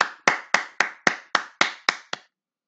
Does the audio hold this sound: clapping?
yes